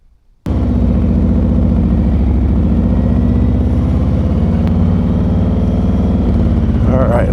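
A Harley-Davidson motorcycle, a 2024 Road Glide fitted with a Klock Werks 10-inch windshield, starts up and runs with a loud, steady low engine rumble that holds for several seconds, with faint wind noise near the end.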